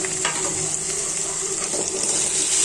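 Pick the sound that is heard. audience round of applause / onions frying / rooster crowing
onions frying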